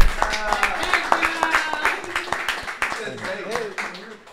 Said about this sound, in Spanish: quiero que le den un fuerte aplauso a... El Beliquín